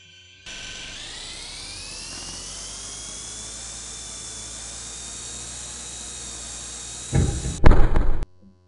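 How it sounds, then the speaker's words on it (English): Model airplane electric motor in a flight simulator game, a steady high-pitched whine that rises slightly as power builds, held for several seconds before ending in a short burst of crashing thuds. "this one's got enough power to fly upside down and crash"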